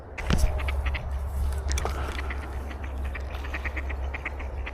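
Several ducks on the Dandenong River quack in short bursts over steady outdoor background noise, moderately close, with no talking.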